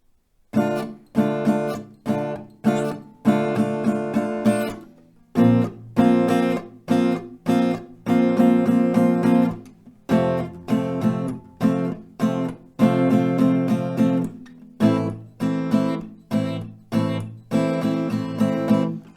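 Acoustic guitar strummed once per chord through a slow progression, each chord ringing out before the next, with short gaps between phrases.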